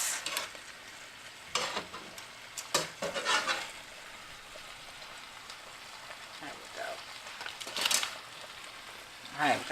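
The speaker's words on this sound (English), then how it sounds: "Give a quick stir. Make sure they're floating around in that Alfredo sauce the way they're supposed" Noodles being stirred through Alfredo sauce for Cajun shrimp and chicken pasta, giving soft, wet scraping bursts at irregular intervals over a quiet background.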